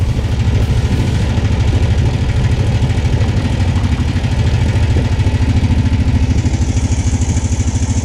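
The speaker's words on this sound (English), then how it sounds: "That little clinging noise. I think that's the timing chain on this." A motorcycle engine idles steadily and close by with a rapid, even throb. A faint metallic clinking from the timing chain runs underneath it.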